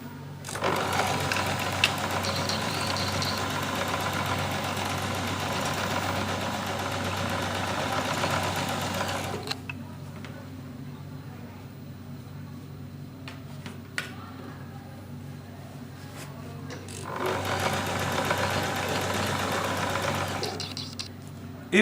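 A sewing machine runs a zigzag stitch on a bag with a steady, close mechanical whir. It stops for several seconds partway through, then starts up again.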